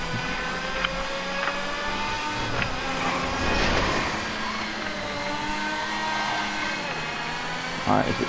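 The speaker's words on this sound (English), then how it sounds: "Oh, here comes the jet engine." Engine of a racing car in Grand Theft Auto V roars loud and steady through the whole stretch, rising slightly mid-way with a brief burst near the end, someone talking over it.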